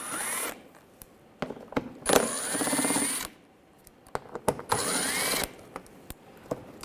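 A ratchet with an 8mm socket backs out screws underneath a BMW 328i, with bursts of rapid clicking alternating with short pauses and small metallic taps, close up with no talk.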